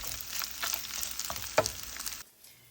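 Rice sizzling and frying in a buttered skillet with occasional stirring scrapes, a steady crackle that ends abruptly near the close, leaving near silence.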